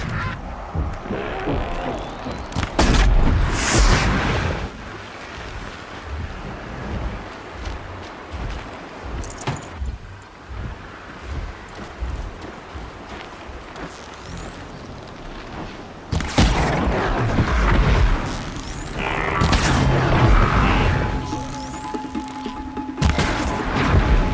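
Corrupted Watcher machines attack in the Horizon Zero Dawn video game, with loud bursts of booming combat noise at the start and again near the end, and a quieter, rumbling stretch in between.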